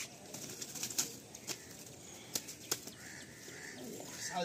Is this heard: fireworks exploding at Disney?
no